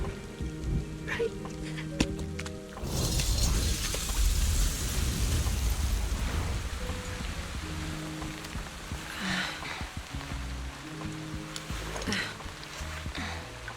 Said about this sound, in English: Awful day for rain.